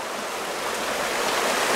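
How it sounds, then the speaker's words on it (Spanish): Spring water at San José de las Matas in the Dominican countryside gushes and splashes in a steady, dense rush, close and fairly loud with no breaks. "Mira cómo está saltando esa agua ahí."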